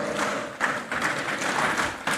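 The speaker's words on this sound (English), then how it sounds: "Let us give ourselves one round of applause" An audience at a primary school heads' conference gives a round of applause. The clapping is dense and fills the hall throughout the short stretch.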